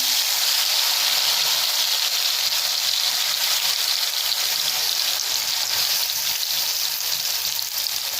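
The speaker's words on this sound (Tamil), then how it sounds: "எண்ணெய் காஞ்சதும் கருணக்கிழங்கு போட்டுக்கலாம்" Pieces of elephant foot yam frying in hot oil with ginger garlic paste, giving a steady, loud, close sizzle that holds without a break and carries no voices.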